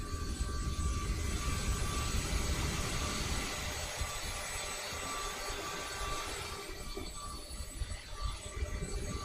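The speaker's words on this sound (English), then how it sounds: "Yeah, so you're hearing the airplane." A CRJ 700 jet airliner's engines drone in a flight simulator, a steady mid-level whine and rumble that shifts slightly in tone partway through, with no talking.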